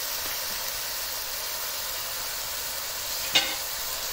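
Vegetables for spring rolls frying in a pan, a steady close hiss of sizzling throughout with one brief louder clatter near the end.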